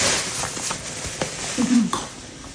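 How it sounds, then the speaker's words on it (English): Crayfish stirred into a pot of ogbono soup, with soft scraping and light clinks of a spoon against the pot over a couple of seconds, faint voices in the background. "Let's mix it"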